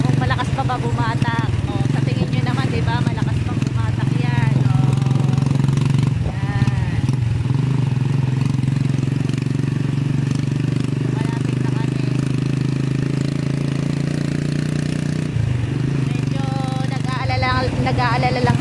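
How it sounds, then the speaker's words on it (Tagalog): A motorcycle engine being test-run runs steadily at close range, a continuous droning hum under ongoing talk, with brief revving changes partway through. "Trinay namin yung motor niya. Yung makina, kung malakas pa ba bumata."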